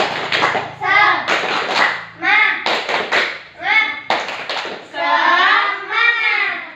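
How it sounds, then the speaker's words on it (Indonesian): A primary school class in a maths lesson performs tepuk semangat, bursts of rhythmic group clapping alternating with children chanting loudly together in a patterned call. "Tepuk semangat"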